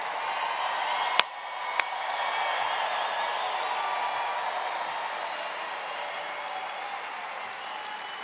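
Rally crowd breaking into sustained applause for law enforcement officers, a dense wash of clapping that stays steady throughout, with two sharp clicks near the start.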